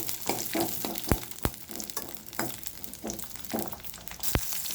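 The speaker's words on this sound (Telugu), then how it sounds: "పచ్చిమిర్చి అనేది పేలుతవి, జాగ్రత్తగా వేయించుకోవాలి." Green chillies fry in a hot pan with a steady crackling sizzle, broken by several sharp pops and the scrape of stirring, close up and with no talk.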